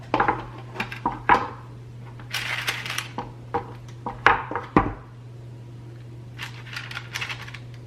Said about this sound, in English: let me go ahead and start slowly adding this batter